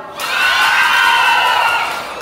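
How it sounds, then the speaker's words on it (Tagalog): A crowd of children and supporters at a Little Miss Purok 3 2023 pageant question-and-answer round shouts and cheers loudly, a sustained roar of high voices swelling then easing over about two seconds. "Pwede ba kayong sumigaw?"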